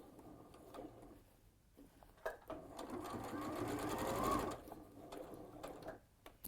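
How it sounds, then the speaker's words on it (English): A sewing machine runs a lock stitch straight across the bottom of a fabric turkey, a steady mechanical whirr building over a few seconds in the middle, with quiet stops and handling clicks on either side. "So I'll do a lock stitch."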